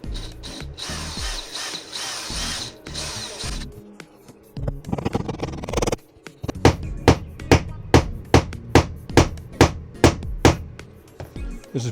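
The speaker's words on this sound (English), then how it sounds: "This is pretty hard to hammer because this board is kind of bouncy." Hammer blows strike a springy board while fitting out a DIY camper: about a dozen sharp, evenly spaced hits in the second half, preceded by scraping and handling noise, close and loud with no talk.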